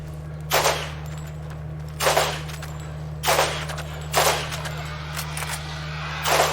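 Rifle gunfire in the video game Borderlands GOTY, five or six separate loud shots at roughly one-second intervals over a constant low hum, with voice faintly in the background.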